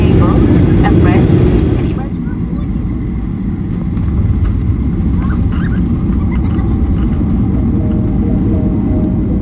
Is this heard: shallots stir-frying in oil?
no